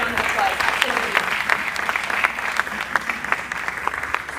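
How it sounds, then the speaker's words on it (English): Audience applause at a ribbon cutting ceremony for a college avionics program, a moderate round of clapping with distinct individual claps, heard steadily throughout at medium distance. "I think that deserves a round of applause"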